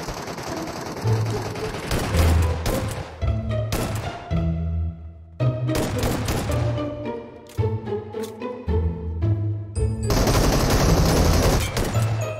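Shotgun fire in Metro Royale, several sharp, loud blasts in uneven clusters over game sounds and music, with short quiet gaps between volleys.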